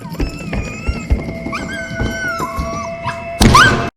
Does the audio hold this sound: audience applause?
no